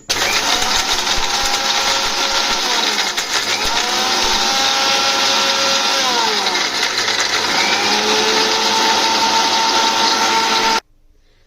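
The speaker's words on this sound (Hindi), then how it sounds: "अब हम इसको ग्राइंड करेंगे।" An electric grinder pulverizes dry thandai ingredients into powder, a loud, continuous high-pitched motor whine with grinding rattle that runs steadily for about eleven seconds before cutting off abruptly.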